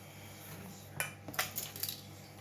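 A spoon scrapes and clinks against a bowl while stirring a water and flour paste for hot cross buns, a few quiet taps and knocks clustered near the end after a hushed start.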